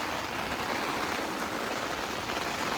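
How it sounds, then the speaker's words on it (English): Steady, dense patter of rain drumming on a cabin tent roof overhead, a continuous close hiss with no voices. "Still raining."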